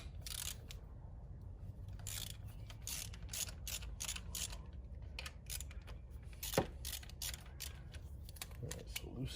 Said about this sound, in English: And now we can just unscrew it, the two 10mm bolts